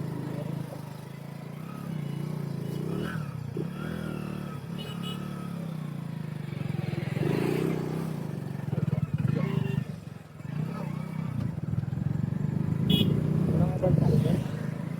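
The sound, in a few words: vehicle engine running as the speaker turns it around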